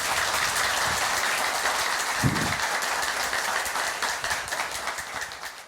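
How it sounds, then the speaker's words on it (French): Audience applause for two teams at a Malta school quiz match, a steady dense roar of clapping that fills the whole stretch at an even loudness. "Merci de reprendre place et au public d'acclamer encore une fois les deux équipes"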